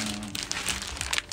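Plastic packaging crinkles and rustles in quick irregular bursts while a 43-inch Infinix X3 smart TV is unboxed, close and fairly quiet with no talking.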